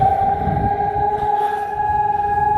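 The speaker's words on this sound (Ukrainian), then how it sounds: "Лунає повітряна тривога." An air raid siren sounds over Kharkiv on a snowy winter evening, a steady sustained wail with strong harmonic tones carrying across the city, loud and continuous with low rumbling background.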